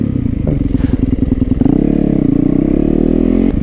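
A motorcycle engine revs hard and close during a wheelie, a loud throbbing burble that rises in pitch and holds, with some mechanical clatter mixed in and a sharp click near the end.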